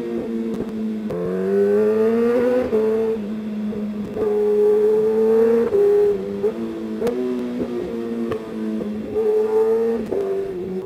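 A 2019 Kawasaki ZX-636R sport motorcycle with a quickshifter revs hard nearby, its engine note climbing and dropping in repeated loud surges as it shifts through the gears.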